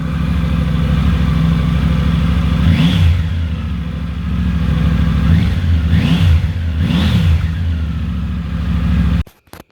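Triumph Tiger 900 motorcycle with the exhaust baffle fitted, idling loudly up close and then blipped through three sharp throttle revs that rise and fall, the engine cutting off abruptly at the end.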